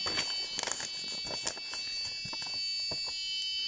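A high, steady electronic tone from a metal detector at full volume, with clicks and taps of handling mixed in.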